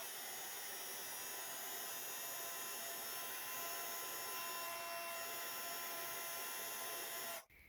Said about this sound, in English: I'm going to add some gold embossing powder over the top. So then we can heat that up.